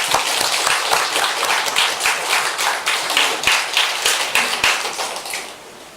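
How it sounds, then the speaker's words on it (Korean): A church congregation at a Sunday morning service claps, with sharp individual claps over a dense patter that thins and fades toward the end. "우리 박수 한번 합시다."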